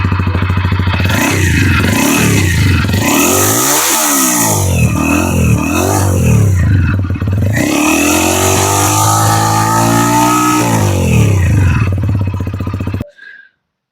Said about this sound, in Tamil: இது வந்து பைக் ஸ்டார்ட் ஆனானே இந்த மாதிரி இருக்கு.